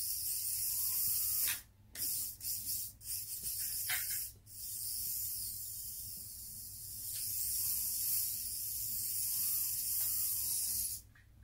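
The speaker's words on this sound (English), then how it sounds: "first we listen to the sound of the gearbox, the new design of the gearbox." Gearbox of a 1:87 scale micro RC car CNC chassis running, a thin high-pitched whine heard alone and fairly faint, with brief dropouts and small pitch sweeps as it speeds up and slows.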